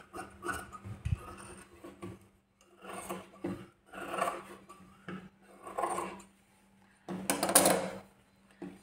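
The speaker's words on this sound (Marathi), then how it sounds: "तर आता जो ही आपला मधला कपडा होता तो आपण कापून टाकला." Blouse fabric is cut in a series of rhythmic rasping snips and rubbing bursts at close range, with brief pauses between cuts.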